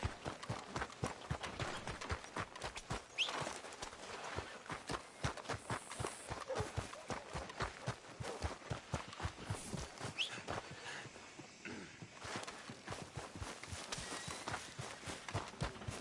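Steady clip-clop of horse hooves at a brisk walking pace in the video game Red Dead Redemption 2, close and even, with a faint bird call or two in the background.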